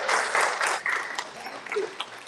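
Audience applauding veterans at a book conference session in Manhattan, a dense burst of clapping that thins and tapers off over a couple of seconds.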